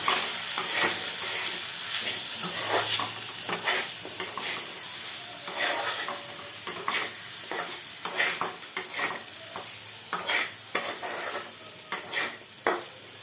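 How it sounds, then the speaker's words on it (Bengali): Chillies and other ingredients fry in a pan under continuous stirring: a constant close sizzle with frequent scraping and clattering strokes that become choppier toward the end. "এবার আমি ভালো করে নাড়তে থাকবো"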